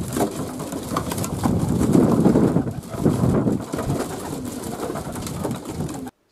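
Flock of racing pigeons eating in a loft, with a steady busy clatter of pecking and shuffling and soft cooing throughout, fairly close and continuous.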